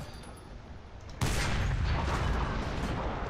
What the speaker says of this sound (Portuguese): metralhadora! Metralhadora!